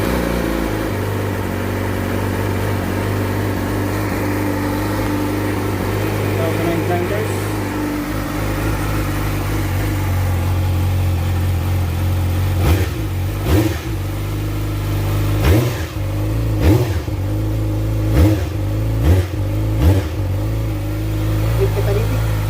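A 2020 Yamaha R6 on its stock exhaust with the catalytic converter still fitted idles steadily and loudly, then gives a series of sharp, quick revs toward the end.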